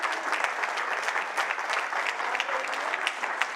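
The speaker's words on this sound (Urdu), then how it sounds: "میرے لیے نہیں، یسوع مسیح لیے تالیاں بجانیاں" A church congregation claps for Jesus Christ during a Pentecostal sermon, with dense, sustained applause from many hands, steady and fairly loud throughout, with no talk over it.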